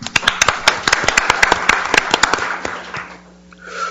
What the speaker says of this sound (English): Could we just give them a round of applause before we start?